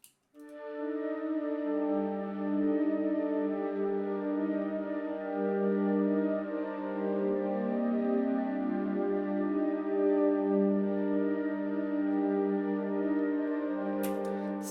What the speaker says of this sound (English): This is the melody. I'm gonna show it without any effects